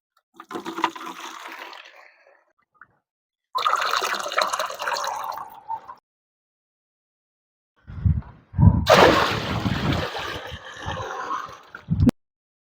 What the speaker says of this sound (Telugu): నాలుగు బకెట్ల వాటరు మనం అందులో యాడ్ చేసుకుందాం